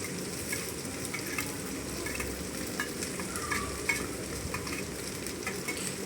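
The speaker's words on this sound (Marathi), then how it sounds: "कांदा आपल्याला गुलाबी रंगावर छान खरपूस असा तळून भाजून घ्यायचा आहे." Onion frying with green chillies in a pan until pink and crisp, a steady soft sizzle with faint stirring scrapes running throughout, close and moderately quiet with no talking.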